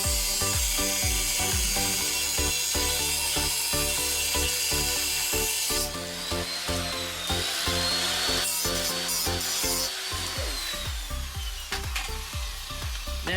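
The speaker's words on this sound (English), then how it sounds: "I'm going to shorten the stud. I'm going to take about a 1/4 inch off of it." A cutting tool trims the end of an exhaust stud on a 1956 VW Beetle engine in a workshop, making a loud, close rhythmic rasping with repeated strokes and no talking.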